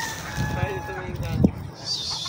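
A chicken clucks and squawks a few times at close range over a low background hum.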